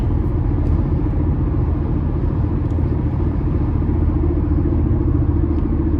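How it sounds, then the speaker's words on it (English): A 2014 Mazda CX-5 Sport with a 2.0-liter four-cylinder at 97,000 miles cruises along a road, a loud steady low rumble of tire and road noise filling the cabin without a break, no talking. "Just hearing a little bit of tire noise here."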